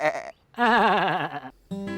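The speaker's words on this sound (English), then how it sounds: "the goats" Fainting goats in Lewisburg, Tennessee, bleat close by: three wavering, nasal calls, the middle one long and quavering, each separated by short pauses.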